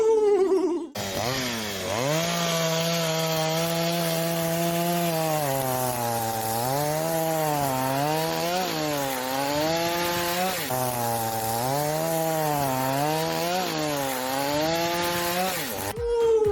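A chainsaw cuts firewood outdoors in winter in Sakarya, its motor whining continuously for about fifteen seconds and rising and falling in pitch as the chain bites into the wood, loud and close.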